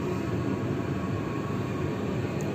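Train pulling away from Dęblin station after a long delay, heard from inside a carriage as a steady, dense low rumble with constant rolling noise and no voices.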